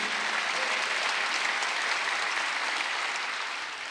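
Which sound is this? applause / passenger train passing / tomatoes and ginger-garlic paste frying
applause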